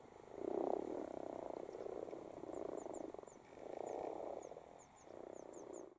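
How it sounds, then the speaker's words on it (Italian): Common frogs gathered in a small alpine pond in spring, croaking in repeated purring bursts of a few seconds each, fairly close, with faint high bird chirps in the background. "come la rana temporaria che si raduna in primavera nei laghi e nelle piccole pozze per accoppiarsi e per deporre le uova"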